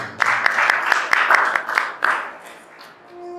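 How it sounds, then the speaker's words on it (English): Audience applause for a participant named Supreet at a talk session of a spiritual festival; a short burst of clapping with sharp individual claps, fading out after about two seconds, with no speech. "Please give a lot of applause."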